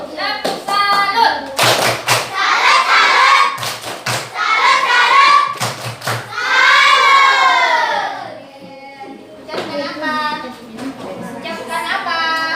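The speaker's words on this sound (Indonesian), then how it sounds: "Beri tepuk salut untuk kelompok biru." Elementary classroom children perform a rhythmic group clap routine, sharp unison claps punctuating loud chanted voices. The clapping comes in short, evenly spaced bursts between the children's sing-song chanting.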